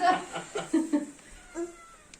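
A cat meows several times in short, soft cries, close by, with quiet voices faintly in the background.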